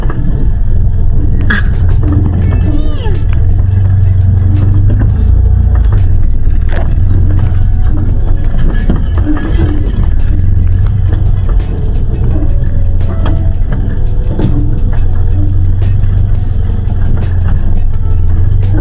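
A car rolls slowly over a rough road near Cavinti, Laguna, with a steady low rumble of engine and tires and scattered knocks and jolts running throughout, loud and close.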